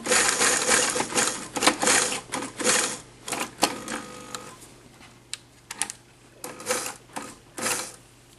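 A sewing machine runs in bursts while stitching through several layers of a reversible skirt made from a kit. It whirs in short, closely spaced runs with brief pauses between them, near and fairly loud, with no talking.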